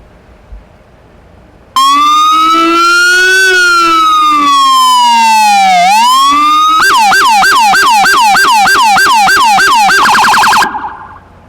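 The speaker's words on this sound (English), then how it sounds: "We'll go ahead and play the siren for you to show you how much louder that is compared to what we're used to." Pennsylvania State Police patrol car siren blares loud and close, first a slow rising-and-falling wail, then a rapid yelping warble, and finally a fast hi-lo pulse before cutting off.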